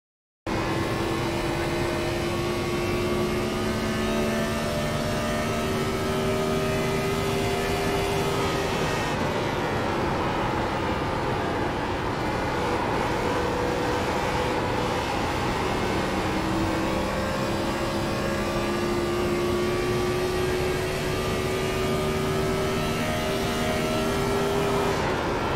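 A stock car engine from the Gen 4 Fixed series at Homestead in iRacing drones steadily and loudly across a full lap, its pitch rising and falling with shifting and braking, alone without voices.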